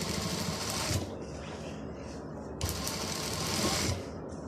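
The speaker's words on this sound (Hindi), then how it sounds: "अब इसके ऊपर एक और सिलाई लगा देती हूँ ताकि ये जो उठी उठी जैकेट है वो बिल्कुल ठीक हो जाए" A sewing machine stitches through an old, thick jacket in two runs of rapid, rattling mechanical clatter with a short, quieter pause in between.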